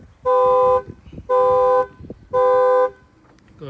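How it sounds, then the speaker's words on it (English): Three loud, evenly spaced blasts of a factory car alarm horn, each about half a second long, with quiet gaps of ambient noise between them. "Alarm will fire off."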